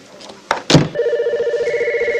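A telephone rings in steady repeated pulses from about one second onward, loud and close, following a couple of short bumps and knocks; no one speaks over it.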